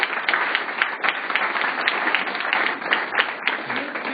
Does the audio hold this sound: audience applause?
yes